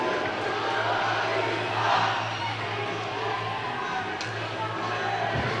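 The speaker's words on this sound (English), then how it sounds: "Justin Paul with his first varsity goal, and the crowd's going nuts." Crowd at a high school varsity hockey game cheering after a goal: a loud, sustained roar of shouting and cheering filling the arena, with a commentator talking over it throughout.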